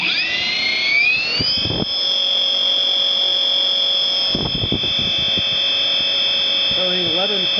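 A rewound Revolt RV-160 electric motor in an 80kv WYE configuration spins unloaded at maximum RPM, giving a loud, steady high-pitched whine that rises briefly and then holds, with a few faint clunks and a short voice near the end.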